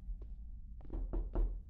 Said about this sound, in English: I bloody hate that knocking noise